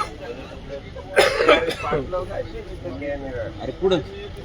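A couple of harsh coughs burst out close by, followed by throat-clearing amid voices talking in the background.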